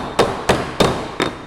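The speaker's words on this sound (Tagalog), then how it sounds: "Yung overall na lang yung pinupukpok ko para hindi siya pumasok yung tubig sa loob" Four sharp, evenly spaced hammer blows ring out on an aluminum ventilation cover, each a crisp metallic strike with a short ringing decay, close and alone.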